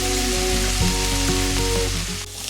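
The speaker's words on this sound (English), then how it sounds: "so we can saute our peppers and our onions." Peppers and onions sautéing in a pan, a loud, steady, close sizzle with crackle that runs throughout alongside a sustained tonal hum, and no one talking.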